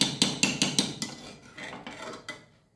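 A spoon scrapes and clatters against a kadai while stirring shyama rice khichuri, a quick run of sharp metallic knocks that slows into softer scraping strokes and then fades out, close by with no voices.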